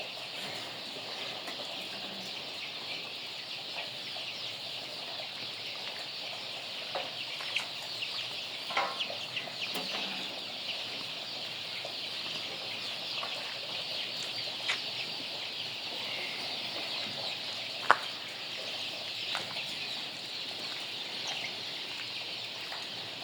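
Chickens in a poultry house with roosters and hens, clucking steadily at a moderate distance over a constant hiss, with a few sharper calls now and then.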